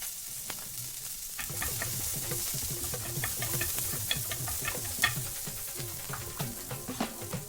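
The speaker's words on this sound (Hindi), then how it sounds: "इसको भी थोड़ा सा सौते फ्राई करेंगे 1 से 2 मिनट के लिए" Chopped cabbage sautéing in a pan for Schezwan momos: a loud, continuous sizzle with busy scraping and stirring strokes throughout and no talking.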